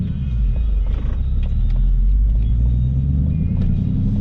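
Deep, steady engine rumble from a 2020 Ford Mustang Bullitt while driving, heard from inside the car as a continuous low drone at constant loudness with no talking.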